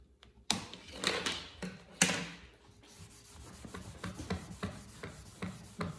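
Cloth rubbing along adhesive contact edge banding tape on a curved board edge, a close series of dry rasping strokes with sharp taps between them, steady and fairly loud with no talk.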